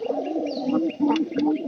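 Repeated low cooing of a pigeon at a nesting spot with young chicks, steady rolling calls close and fairly loud, a touch of faint chirping above.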